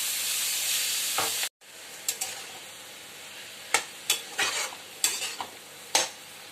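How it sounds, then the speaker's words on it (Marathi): Wild monsoon taakla greens sauté in a hot pan: a loud continuous sizzle cuts off abruptly, then sharp scraping and tapping strokes of a spatula stirring the greens follow in an uneven rhythm. "आता टाकूया ही थोडी थोडी भाजी आणि परतत जायचंय"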